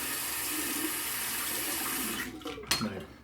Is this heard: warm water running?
yes